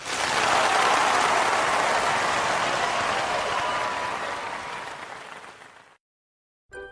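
Basketball crowd at a Dayton Wolves home game against the Atlanta Celtics roars and applauds in a loud, broad wash that swells, holds for several seconds, then fades and cuts off abruptly before a brief new sound.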